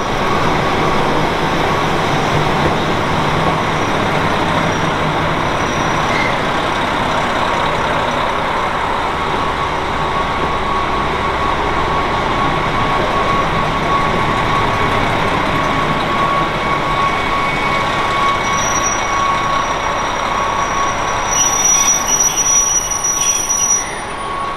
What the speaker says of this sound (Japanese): 旭川行きの特急サロベツが稚内駅に入線します